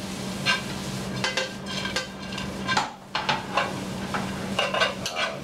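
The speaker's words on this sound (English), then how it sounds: "Okay, so now I toss my pasta in there. I'm tossing this with my pancetta." Pasta tossed with pancetta in a hot pan, with steady sizzling frying plus repeated scraping and clinking of utensils against the pan in uneven bursts, close and moderately loud with no talking.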